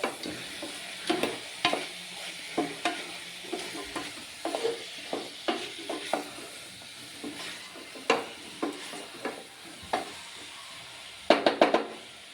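A spoon scrapes through potato stew ingredients seasoned with garam masala in a pan. The strokes come as a series of short, fairly regular scrapes and clinks over a faint background sizzle.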